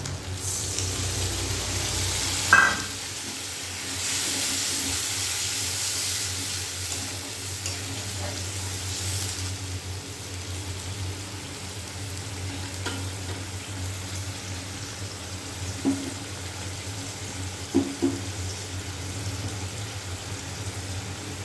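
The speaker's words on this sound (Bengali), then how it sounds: "মশলাটা কষানোর জন্য একটু জল দিয়ে দেবো।" Spice paste frying in a pan with a little water added, a steady close hiss and sizzle with a few soft stirring knocks, no talk.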